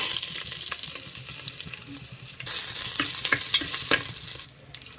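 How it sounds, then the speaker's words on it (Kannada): Eight to ten dry red chillies drop into half a spoon of hot oil. A steady frying hiss swells into a louder, brighter sizzle midway, with light stirring taps, then drops off sharply near the end. "ಎಣ್ಣೆ ಕಾದ್ಮೇಲೆ ಒಂದು 8ರಿಂದ 10 ಒಣಮೆಣಸಿನ್ಕಾಯಿ ಹಾಕ್ತಾ ಇದ್ದೀನಿ."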